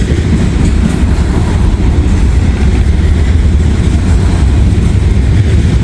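A mixed manifest freight train rolls past at close range, a loud, continuous rumbling roar with steady low-end churn and faint rhythmic wheel clatter throughout.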